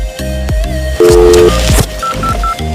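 Telephone keypad being dialed, a rapid series of distinct dual-tone beeps pressed one after another, loud and close, over a low background hum with no speech.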